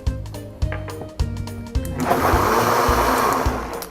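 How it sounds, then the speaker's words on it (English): A few rhythmic knocks, then a blender whirs up to a loud, continuous grinding roar that runs to the end, blending mushroom stroganoff ingredients. "put it right into the blender to give it a little more deep body flavored"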